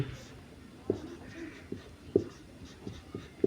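Chalk or marker strokes on a board during a Class 10 maths lesson, heard as a few sharp taps and scrapes spaced roughly a second apart over a quiet, slightly noisy room.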